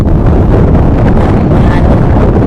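Strong wind hits the microphone in loud, continuous roaring buffets that swell and fade for the whole moment outdoors, with no voices.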